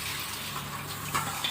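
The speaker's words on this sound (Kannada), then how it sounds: "ನೆನೆಸಿಟ್ಟಿದ್ದೆಲ್ಲ ರೈಸ್ ಮತ್ತು ನೀರು ಅದನ್ನು ಹಾಕ್ಕೊತಾ ಇದ್ದೀನಿ" Soaked rice and water poured into a cooking pot, a steady pouring splash of water for a second or two, close and moderately quiet with no speech.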